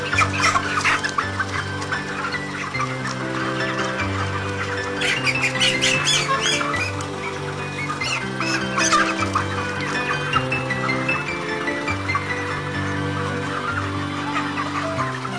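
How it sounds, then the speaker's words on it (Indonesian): Several broiler chickens squawk and cluck loudly and agitatedly at close range while being caught, bursts of flapping commotion rising and falling over a steady background hum. "Setelah itu kita menangkap ayam yang akan ditimbang secara acak."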